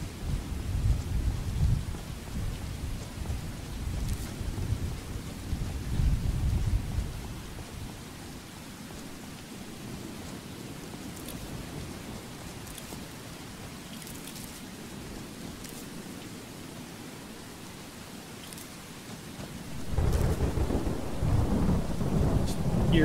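Steady heavy rain with rolling thunder in the game Skyrim, loud low rumbles at the start and again near the end around a long stretch of even downpour.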